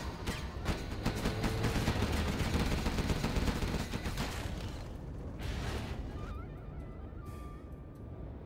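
Gatling guns firing in the real-time strategy game Command & Conquer Generals: a dense, continuous rattling barrage with scattered impacts and bursts that thins out toward the end.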